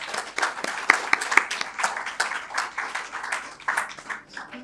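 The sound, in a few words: audience applause welcoming Dr. Purohit onto the stage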